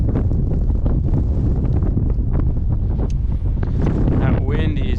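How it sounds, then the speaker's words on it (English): Strong wind howls across a fishing boat in the Exmouth Gulf, buffeting the microphone with a constant loud roar and rumble, with a voice faintly heard beneath it. "That wind is howling."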